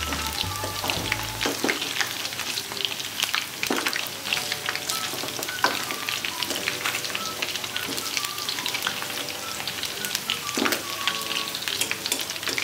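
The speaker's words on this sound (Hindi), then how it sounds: "सारे सोयाबीन को फ्राई कर ली, पलट पलट कर और क्रिस्पी होने तक फ्राई कर लेने का" Soybeans deep frying in hot oil until crispy give a steady, dense sizzle and crackle throughout, with occasional louder pops and faint stirring, and no talking.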